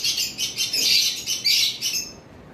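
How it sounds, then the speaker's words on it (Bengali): A sun conure parrot giving shrill, harsh calls in quick repeated bursts, close and loud, then stopping abruptly. "এখানে এক পিস সান কোনর রয়েছে, আপনারা দেখতে পাচ্ছেন।"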